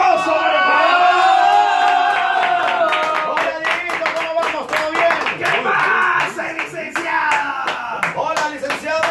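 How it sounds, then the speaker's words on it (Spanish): An audience in a radio studio claps in a lively burst of rapid handclaps, with whoops and cheering voices mixed in near the microphone. "¡El aplauso!"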